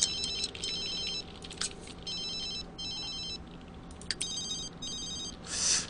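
Telephone ringing in The Sims 3, a repeating electronic trill in bursts with short gaps, loud and alone over a faint steady background hum.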